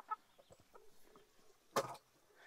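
Chickens on a Brazilian smallholding cluck in short scattered bursts, with one louder squawk near the end, fairly close outdoors.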